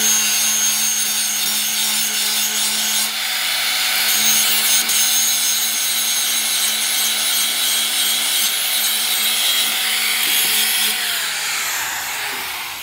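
Angle grinder grinding steel while mounts are fitted and welded onto a trailer, a loud continuous high-pitched abrasive whine running steadily through the whole stretch with slight shifts in pitch and no talking.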